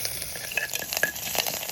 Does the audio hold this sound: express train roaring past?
no